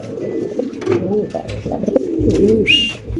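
Soft, throaty coos from a Pakistani pigeon at a pigeon loft repeat close by, a burbling murmur with a brief sharper chirp near the end.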